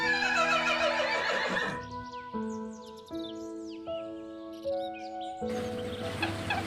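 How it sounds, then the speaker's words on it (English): A horse neighs: one loud, shrill whinny that falls in pitch, followed by steady musical tones and faint chirping. "Horse."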